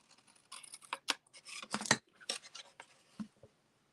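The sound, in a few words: cutting a small miter in paper, likely with scissors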